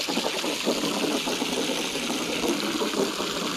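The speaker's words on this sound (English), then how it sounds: "I'm going to fill it up with water." Water pouring steadily to fill a newly dug water hole, a continuous close gushing splash that holds at an even level for several seconds with no talking.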